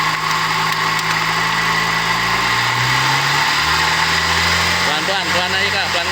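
A Mitsubishi Lancer engine idles and revs while its radiator is being flushed, a loud steady hum whose pitch rises and falls, with people talking over it.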